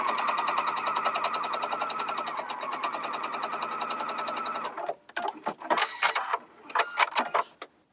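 A sewing machine stitches a quilt border in a fast, steady mechanical run for about five seconds, then stops, followed by a few soft handling clicks and rustles close by.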